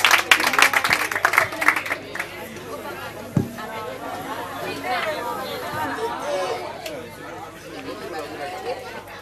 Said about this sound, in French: sous vos ovations. Applaudis pour lui.